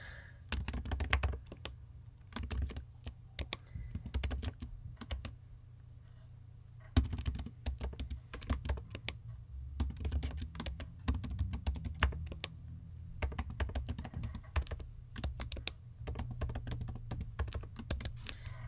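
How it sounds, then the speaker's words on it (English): Someone types on a computer keyboard with rapid, irregular keystrokes in bursts and short pauses across the whole stretch. The clatter sounds close and clear with no voice over it. "You would type in the name of where you work."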